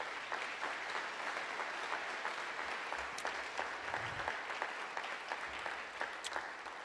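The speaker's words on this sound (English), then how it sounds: "Let's give another round of applause to all the winners today." A room of people applauds the award winners at the close of a livestreamed event, a steady, faint wash of clapping that carries on alone without pause.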